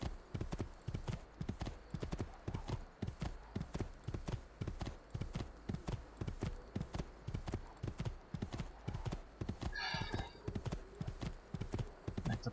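Hooves clip-clop in a steady, rapid gallop rhythm as a horse is ridden in the video game Assassin's Creed 2, with a brief whinny partway through and a faint background hum.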